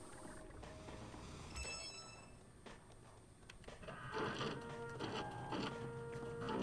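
An in-game 3D printer in Watch Dogs 2 prints an RC jumper drone, giving off faint mechanical whirring, clicking and tonal beeps that grow busier toward the end, with no talking.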